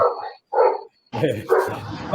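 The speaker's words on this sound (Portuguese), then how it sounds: "Tem um cachorrinho que tá bravo aí." Small dog barking angrily in short bursts during a public administration and media talk, the yaps fairly close and loud with brief silences between, while people speak nearby.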